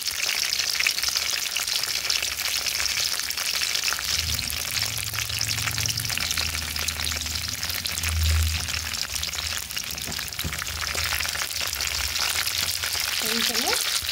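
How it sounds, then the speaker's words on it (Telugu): Okra (bendakaya) frying in oil in a pan for a village-style Andhra chutney, giving a loud continuous crackling sizzle throughout with a few low bumps from the pan. "చూడండి, బెండకాయలు ఒక ఫ్రై అవ్వాలి."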